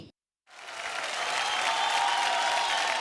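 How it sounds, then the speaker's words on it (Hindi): Applause swells in after a brief silence on a children's educational TV quiz, a dense steady clapping from a crowd that holds loud and even to the end. "अब ताली बज गई तो इसका मतलब सही जवाब ही होगा"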